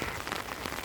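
Steady rain patters on surfaces during an autumn morning walk, a dense even hiss with no talking.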